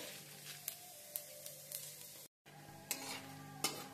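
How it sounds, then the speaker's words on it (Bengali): Dried red chillies and whole cumin sizzle in hot oil used for frying fish heads, a soft steady crackle broken by a few sharp utensil clinks and a brief silent gap midway. "ওই তেলেই আমি দিয়ে দিচ্ছি 4-5টা ফাটিয়ে নেওয়া শুকনো লঙ্কা, দিয়ে দিলাম হাফ চামচ গোটা জিরে"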